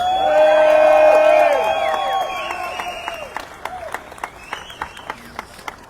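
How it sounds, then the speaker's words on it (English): A crowd at an outdoor rally with speeches whoops and cheers loudly at first, then the noise thins out to scattered individual claps that taper off. "So give her another round of applause, guys."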